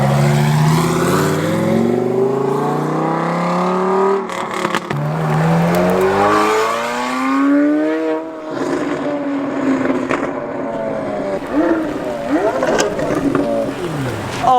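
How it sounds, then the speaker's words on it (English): A Lamborghini Huracan with a VF supercharger making about 800 horsepower revs hard as it passes at a car week event, its engine note rising and falling loudly and close by. "Oh my goodness, that Huracan sounds so good. It's got a VF supercharger pushing 800 horsepower."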